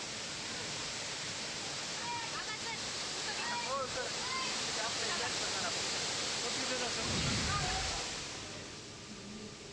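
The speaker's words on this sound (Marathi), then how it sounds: "रामलिंग धबधबा ओसंडून वाहू लागलेला आहे" Ramling waterfall at Yedshi, Dharashiv, overflowing with rushing water: a steady, dense roar that holds constant throughout, with faint voices or calls drifting faintly beneath.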